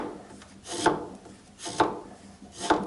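A chisel paring thin slices off pine for a half-lapped dovetail joint, three evenly spaced rasping shaves, each swelling and ending in a crisp cut, close and clear.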